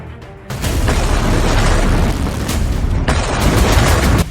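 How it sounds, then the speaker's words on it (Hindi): A drone blast at the Barakah nuclear power plant in the UAE, which set fire to the site's power generator, booms into a loud, sustained roaring rumble that swells and keeps thundering for several seconds. "यह ड्रोन धमाका बराका परमाणु प्लांट पर हुआ।"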